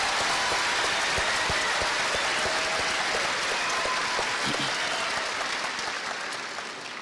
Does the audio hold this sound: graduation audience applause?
yes